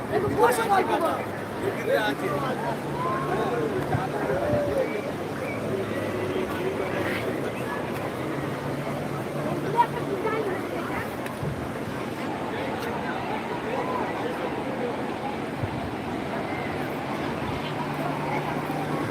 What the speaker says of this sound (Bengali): বিশাল পর্যটক অসংখ্য পর্যটক রয়েছে এই মুহূর্তে তোমার নিউ দীঘা সমুদ্র সৈকতে